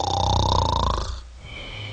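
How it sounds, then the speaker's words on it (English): A person snoring, the throat vibrating with each breath, gives a buzzy, rattling drone for about a second, then fades into quieter breathing. "this is what causes the snoring sound that we are all familiar with"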